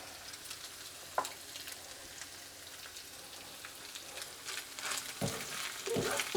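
Chopped parsley stirred into a sizzling pan of perashki filling gives a steady soft frying hiss, with a few scraping spoon strokes and clicks near the end, close and fairly quiet.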